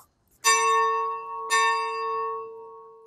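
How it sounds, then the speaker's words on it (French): Gravedigger at the head of a funeral procession in Tournai rings the funeral bell: two clear, resonant strikes about a second apart, each leaving a long ringing tail that slowly fades. "le fossoyeur qui est devant, il fait sonner la cloche"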